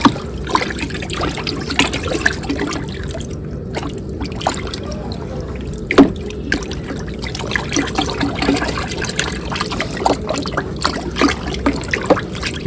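A stick stirs jeevamrutham, a liquid fertilizer, in a container, giving continuous close sloshing and trickling with scattered splashy knocks over a steady watery wash.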